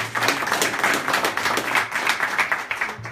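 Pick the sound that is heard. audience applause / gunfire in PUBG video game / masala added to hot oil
audience applause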